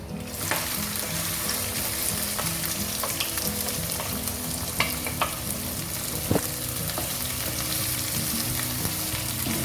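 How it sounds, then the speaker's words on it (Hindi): Steady sizzling and crackling of chopped onions frying in a hot pan, with occasional stirring scrapes, close and continuous without voices. "प्याज को थोड़ा सा हम भून लेते हैं।"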